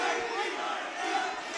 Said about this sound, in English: this capacity crowd absolutely loving the final 15 seconds of that fight